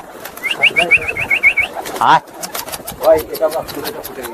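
A Giribaj pigeon near its handler gives a quick series of soft coos, then a burst of wing flapping up close, while people call out and talk over it.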